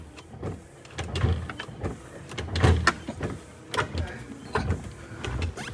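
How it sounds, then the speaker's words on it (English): 1975 Chevrolet Corvette with a faulty wiper switch, its windshield wipers running and refusing to shut off, a rhythmic motor whir and thump repeating about every second, close and moderately loud, with occasional voices. "The wipers aren't turning off."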